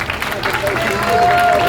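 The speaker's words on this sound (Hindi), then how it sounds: "एक बार आप जरा तालियां बजाओ" An audience claps together at a live comedy show, a fairly loud, continuous wash of applause with some voices and crowd noise mixed in.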